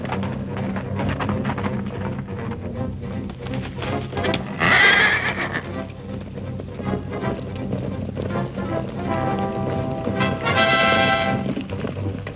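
Horses in a Zorro's Fighting Legion film scene give two loud whinnies over steady galloping hooves and rumbling movement, with no talk.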